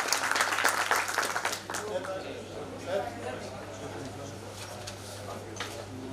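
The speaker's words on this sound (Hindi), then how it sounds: "और मैं चाहता हूँ एक बार और जोरदार तालियां सब लोग बजा दें।" Audience applause at a community gathering in India, with bursts of clapping loudest at the start and then thinning out, set against a steady low hum and scattered background voices.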